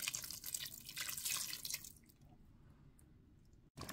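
Water poured into a pot of gombo (okra) sauce, a steady running splash for about two seconds that then drops to a low simmering background, ending with a brief clunk.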